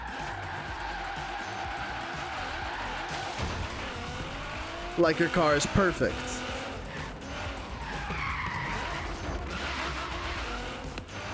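Tires squeal and skid in Forza Horizon 3 as a car spins out of control on a soft or stiff anti-roll bar tune, a burst of sharp chirping squeals over steady engine noise, with someone talking throughout.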